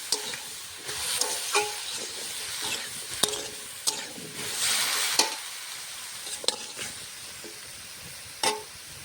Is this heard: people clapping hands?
no